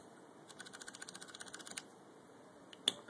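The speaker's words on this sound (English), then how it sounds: "this is a WASD keyboard with Cherry MX Browns and with the sound dampeners installed" Quiet run of keystrokes on a WASD keyboard fitted with Cherry MX Brown switches and sound dampeners, about a dozen soft, evenly paced clicks, then a pause and one sharper, louder key strike near the end.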